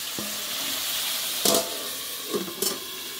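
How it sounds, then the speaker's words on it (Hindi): Chicken cooking in a pan makes a loud, steady sizzle, with a few brief bursts where it is stirred or moved near the end. "यह है चिकन जो मैं अभी बना रही हूँ"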